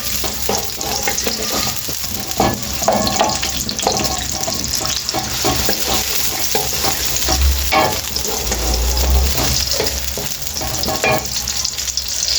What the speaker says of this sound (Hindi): ये हम प्याज डाल रहे हैं इसके अंदर। इसको करेंगे हम फ्राई।